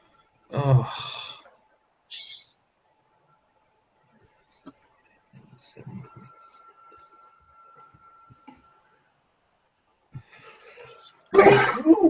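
A single sharp sneeze bursts out close by at the start of a group meeting, followed by faint quiet talk and small noises, then another loud vocal burst near the end.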